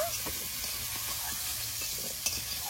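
Vegetables such as cauliflower and carrot lightly frying in oil with a pinch of turmeric in a pan, giving a steady soft sizzle with a few faint stirring scrapes and clicks, close by and with no talk.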